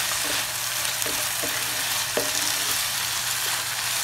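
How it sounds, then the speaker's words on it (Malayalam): Chicken perattu stirred in a pan as its liquid cooks down, with a continuous frying sizzle and a few scattered clinks and scrapes of the spoon, close up and without speech. "ഇനി നമുക്ക് നല്ലതുപോലെ ഒന്ന് ഇളക്കി കൊടുക്കണം."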